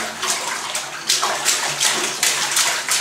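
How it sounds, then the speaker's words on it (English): A puppy splashes in bath water, giving repeated bursts of close, lively sloshing and spattering with short pauses between them. "Splash the water, little puppy boy."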